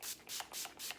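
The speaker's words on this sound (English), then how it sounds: "And I'm going to spray my face." Four quick bursts of makeup finishing spray misted onto a face, each a soft, close hiss in an even rhythm with brief gaps between.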